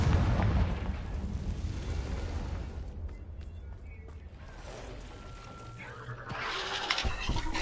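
A Confringo blasting spell explodes in the Hogwarts Legacy video game, a loud, dense burst of booming blasts and crackling effects that eases off midway and then flares up again with sharper pops near the end.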